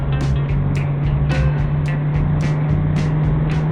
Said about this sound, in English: I've never heard tires screech so much before